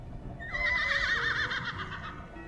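A unicorn in the video game Manners and Manors lets out a single close, wavering whinny that rises, trembles for about a second and then fades over quiet background noise.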